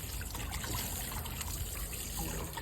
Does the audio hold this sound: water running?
yes